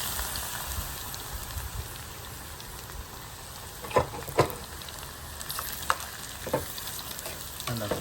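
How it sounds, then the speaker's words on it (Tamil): Eggplant frying in oil with a soft, steady crackle and sizzle, punctuated by occasional sharper pops and clinks of stirring. "இது அடுக்கலையில் கத்திரிக்காய் பொறிக்க எடுப்போம்"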